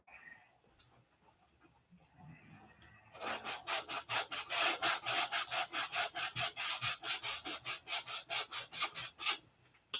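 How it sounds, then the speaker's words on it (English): Aircraft dope finish sanded by hand over carbon, a quiet start giving way to a fast, even run of rasping back-and-forth strokes, close and loud, about two strokes per second. "We're going to sand that down until I can see the black."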